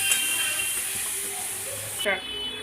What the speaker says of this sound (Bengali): মশলাটা যতক্ষণ পর্যন্ত তেল না ছাড়বে ততক্ষণ আমি কষিয়েই যাব